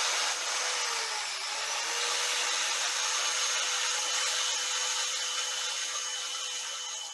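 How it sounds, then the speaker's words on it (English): A power sander runs steadily against the end of a small wooden box, a continuous whirring hum with a faint shift in pitch near the start, sounding alone with no talk. "I'm going to take my power sander. I'm just going to hit the end of that just a little bit."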